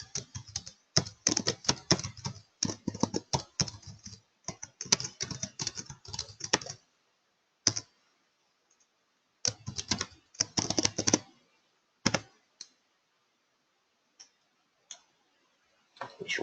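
Close-up typing on a computer keyboard during a live trading session, arriving in quick bursts of keystrokes with short pauses between, then thinning out to a few isolated taps near the end.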